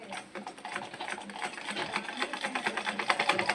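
A Singer sewing machine runs on its own with a fast, steady, rhythmic clatter of needle strokes, close and continuous, gradually picking up intensity.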